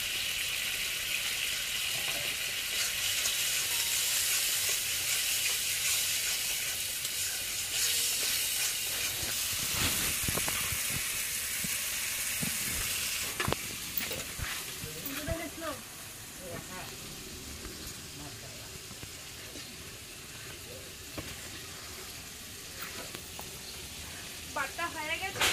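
Dried red chillies fry in hot oil in a home kitchen pan, a constant bright sizzle and hiss that eases slightly partway through, with people talking over it.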